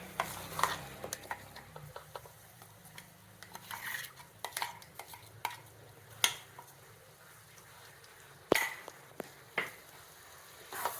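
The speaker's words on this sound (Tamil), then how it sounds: "நல்லா கிளறி விடுங்க" Ground coconut stirred in ghee in a pan for a sweet coconut milk dessert, repeated clinks and scrapes of a spoon against the pan over a quiet background hiss, with no talking.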